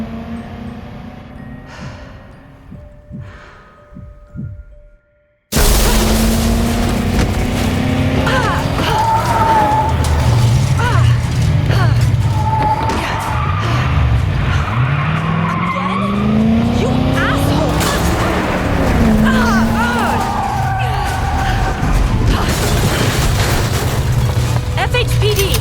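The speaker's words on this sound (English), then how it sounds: "A car." A car in a scripted chase, entering abruptly after quiet talk with loud engine roar and skidding tire squeals that continue unbroken, mixed with dramatic music and shouting.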